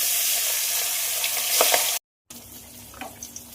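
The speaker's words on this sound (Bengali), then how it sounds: "মাছ ভাজার জন্য তেল কিন্তু একদম গরম হয়ে গেছে এবার একে একে মাছগুলো ছেড়ে দেব" Tengra fish frying in very hot oil, a bright steady sizzle with stirring clicks, a brief silent cut in the middle, then a quieter sizzle with small pops afterward.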